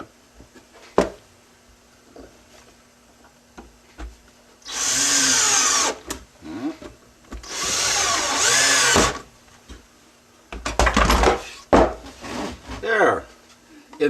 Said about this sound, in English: Next thing I'm going to do is turn this over and put 2 screws.